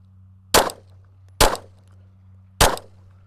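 Three sharp pistol shots fired in a Mozambique drill using a red dot sight at 10 yards, spaced unevenly with a quick pair then a pause, loud and close over a low steady hum, with no talking.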